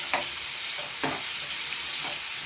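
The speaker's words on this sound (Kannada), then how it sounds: "ಒಂದು ಈರುಳ್ಳಿ ಹಾಕಿ ಫ್ರೈ ಮಾಡ್ಕೋಬೇಕು" Onion frying in a pan as the base for a chicken biryani, a steady close sizzle with stirring scrapes about once a second.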